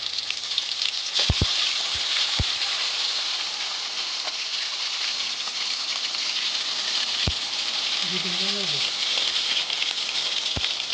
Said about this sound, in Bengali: তো গাইস আমরা তেলের উপর একটা চিকেন দিয়ে দিচ্ছি এবং একের পরে এক অনেকগুলো চিকেন দিয়ে দিচ্ছি